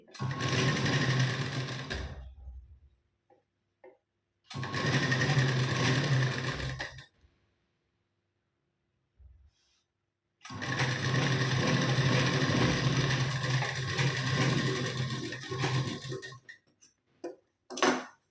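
A sewing machine stitches a blouse in three long, close runs separated by silent gaps, with faint handling clicks between the runs.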